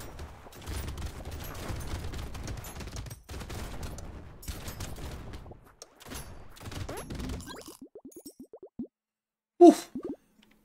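Rocket launchers firing in the video game Brotato: rapid, clustered bursts of popping blasts for about seven seconds with brief gaps, then sparse quieter pops trailing off and one last loud hit near the end.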